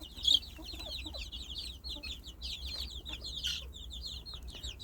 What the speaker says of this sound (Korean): 22마리 병아리들이에요